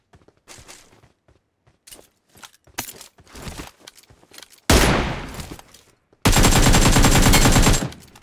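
Gunfire in the mobile battle-royale game PUBG Mobile: scattered single shots and soft steps, then two loud sustained bursts of rapid automatic fire, close and dominant.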